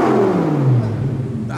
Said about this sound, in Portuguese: deixa eu dar uma aceleradinha